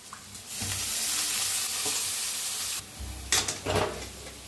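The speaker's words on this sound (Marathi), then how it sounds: "आता मटकीची डाळ बी जरा भाजून घेऊया तेलातच।" Soaked moth bean dal roasting in hot oil, a loud continuous sizzling hiss that drops briefly, then returns with stirring scrapes in the pan.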